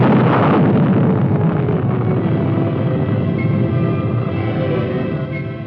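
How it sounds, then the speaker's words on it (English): A Nike-Zeus anti-missile missile launches at White Sands Missile Range in 1960, a loud, sustained roaring rumble that stays dense and powerful throughout and fades only slightly toward the end. "The Army's Nike-Zeus, deadly anti-missile missile, being developed to destroy aggressor long-range missiles."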